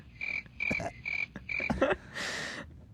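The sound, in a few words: cricket chirping sound effect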